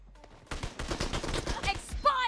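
Rapid bursts of automatic gunfire from the PUBG Mobile video game rattle out loudly and continuously for about a second and a half, with a brief electronic chirp at the end.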